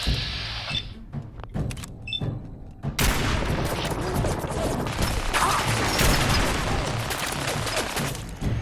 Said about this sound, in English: Stop with the minigun